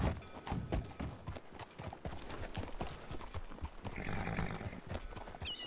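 Horse hooves clip-clop steadily on a dirt path in a Western open-world video game, with a brief whinny, heard alongside game music and ambient noise.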